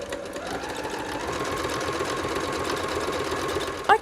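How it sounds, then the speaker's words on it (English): Sewing machine stitching fabric lines on a bowl cozy with a leader cloth, a steady close whirring hum running the whole time, ending in a short sharp clack. "I'm just going to keep stitching that, and I'm going to keep using my little leader cloth there to make it easier"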